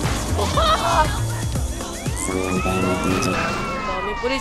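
Police car sirens wailing in GTA San Andreas during a riot, several rising and falling tones overlapping amid game noise and a loud, busy mix, with someone speaking.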